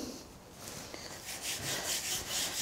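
Gluten-free pastry being rolled out on a floured board with a rolling pin, giving soft rhythmic rubbing and scraping strokes, close and quiet, growing a little stronger toward the end, with no talking.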